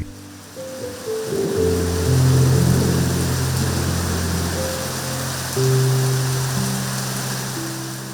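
Steady monsoon rain in Bangladesh hisses loudly and evenly throughout, joined by long sustained low tones that change pitch now and then, with no talking.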